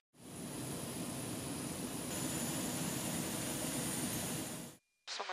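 Engines of a large US cargo aircraft running as a loud, steady, close roar that holds evenly for several seconds, then cuts off briefly before a short burst returns.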